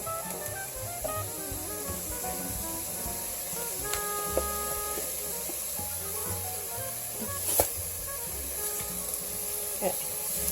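Vegetables for chicken noodle soup, seasoned with salt and Mrs. Dash, simmer and sizzle in a pot with a steady, soft hiss and faint stirring clicks throughout, without talk.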